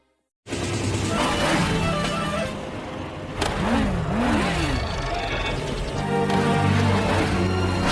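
A motorcycle gang on 300 cc bikes speeds down a city street. Loud engines drone steadily, and their pitch swoops up and down in a few quick revs partway through.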